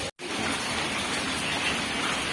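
Steady rain pours down in a continuous, dense hiss of drops on surfaces, close and even, with a brief dropout near the start.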